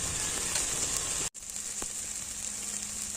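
Ginger, garlic, pepper, fennel and cumin paste frying in a pan for chicken gravy, giving a steady, close sizzle with a brief dropout partway through.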